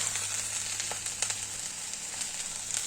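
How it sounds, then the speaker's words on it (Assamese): Taro stems fry over low heat in an uncovered pan, a steady close sizzle with faint scraping strokes of a spatula as they are stirred. "কম জুইত এনেদৰে লৰাই লৰাই ভাজিলে আপোনাৰ তলত লাগি নধৰে"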